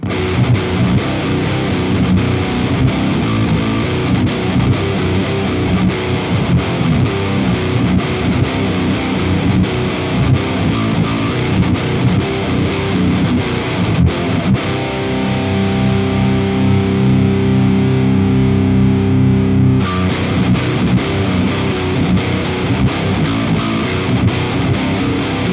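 Heavily distorted electric guitar played through a 5150 Iconic amp running 6L6 tubes with presence lowered and resonance boosted, loud continuous chugging riffs with a brief sustained chord partway through.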